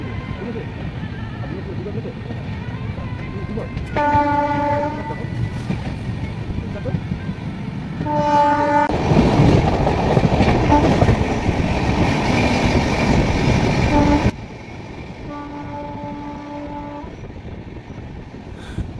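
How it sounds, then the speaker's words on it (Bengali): A Howrah-Lalkuan superfast express train rolls along, a continuous loud rumble and rattle of wheels on track from inside the train, with a louder clattering stretch midway and someone talking over it at intervals. "আমাদের ট্রেন পার হচ্ছে মশাগ্রাম"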